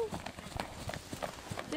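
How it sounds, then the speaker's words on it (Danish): A horse runs in a TREC riding session, its hooves clip-clopping in a quick, steady rhythm close by, with a voice talking over the hoofbeats. "så vil du lige så godt tage hesten med ud og løbe og springe med."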